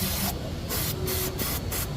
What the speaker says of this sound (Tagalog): I-spray na lang po natin ng ating carburetor cleaner or brake cleaner.